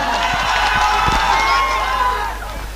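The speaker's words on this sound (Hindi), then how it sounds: "भाई सरवर साहब जोरदार ताली" Crowd cheering and clapping at a post-election victory rally for an AIMIM candidate in Kochadhaman, Bihar, a loud, sustained roar of voices with a few claps, easing off slightly toward the end.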